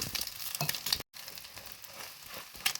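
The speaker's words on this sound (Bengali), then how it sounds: "দিয়ে একদম অল্প আঁচ করে দিয়ে অল্প আঁচে ভাজতে হবে" An egg paratha fries in ghee on low heat for a Kolkata-style egg roll, making a soft, steady sizzle with occasional crackles and pressing or scraping sounds, briefly cut by a moment of silence.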